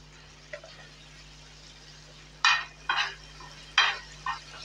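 Tomato gravy for tava pav bhaji fries on a griddle under a faint, steady sizzle, broken by five sharp scraping stirs, the loudest coming in the second half.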